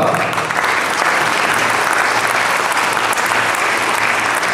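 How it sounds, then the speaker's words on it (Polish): Steady, dense applause fills a sports gala hall in Olsztyn, a continuous loud wash of many hands clapping with no break. "Brawa!"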